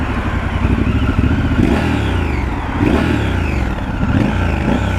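A Triumph Scrambler 1200 XE motorcycle engine revving loudly nearby, the throttle rising and falling in several surges over a deep, lumpy idle.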